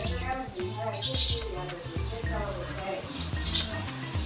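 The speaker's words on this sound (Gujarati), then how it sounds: "કેટલા આખી લીંબોડીમાં એકલા ચકલા જ છે." A crowd of sparrows in a neem tree chirps busily, many short overlapping tweets at close to middle distance, while a person talks over them.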